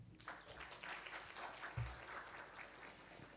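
Audience applause at a graduate school graduation ceremony, a steady wash of clapping from a seated crowd lasting a few seconds, fairly distant and moderate in level with no talking over it.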